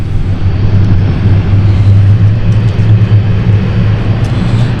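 A CityFlyer airliner climbs away on takeoff from London City Airport, heard as a loud, steady low engine roar and rumble that holds throughout, with no voices over it.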